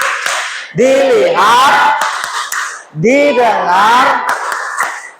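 A group of Indonesian schoolchildren performs a tepuk fokus clapping routine in class, chanting loudly in unison while sharp rhythmic claps punctuate two chanted phrases.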